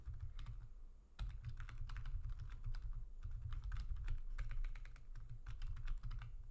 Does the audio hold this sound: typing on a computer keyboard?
yes